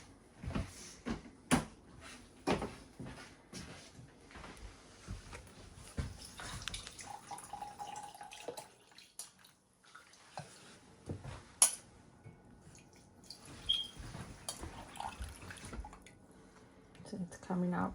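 Herbal remedy liquid for respiratory relief strained in a kitchen, with scattered drips and small splashes among clinks of dishes and cupboard knocks, under intermittent talking.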